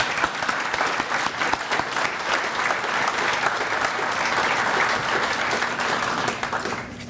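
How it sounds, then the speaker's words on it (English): Audience at an essay contest awards ceremony applauds steadily for about seven seconds, a dense, even wash of clapping from many hands that tapers slightly at the end. "please help me in giving all 3 students another round of applause for a job well done."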